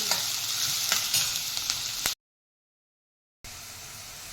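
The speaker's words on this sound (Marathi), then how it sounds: "कांदा मस्त सोनेरी रंगावर आपण परतून घेऊ" Onion fries in a pan until golden, a close, steady sizzle with light stirring scrapes that cuts out for about a second of silence midway, then resumes.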